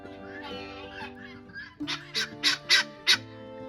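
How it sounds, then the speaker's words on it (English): Guinea fowl on a homestead give a series of loud, harsh, rhythmic calls, five or six sharp bursts in quick succession. The calls rise over a steady tonal background with faint voices underneath. "These guinea fowl are changing how I am raising birds."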